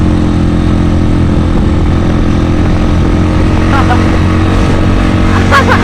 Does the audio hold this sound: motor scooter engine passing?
yes